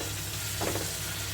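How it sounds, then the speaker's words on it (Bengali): Washed shrimp are stirred into thick masala sizzling in a pan, a steady frying hiss with a short, louder scrape of stirring midway through. "এখন আগে থেকে ধুয়ে রাখা চিংড়ি মাছগুলো দিয়ে দিলাম।"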